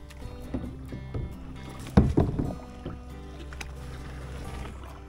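Canoe or kayak being paddled on water, a few soft paddle strokes and one louder splashing stroke midway over a low, steady background hum.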